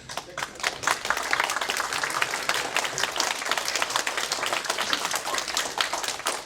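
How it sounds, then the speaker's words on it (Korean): Attendees at an academic conference clap together to wake themselves up, a brisk patter of many hands with distinct individual claps audible in the mix, moderately loud and continuous, with no one speaking. "잠도 깰 겸 박수 100번만 치고"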